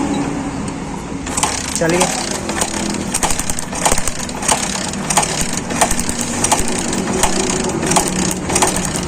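Bajaj Discover motorcycle kick-started with a missing-spark wiring fault, the engine then running with a rough, irregular clattering beat close by, loud, while someone speaks briefly over it.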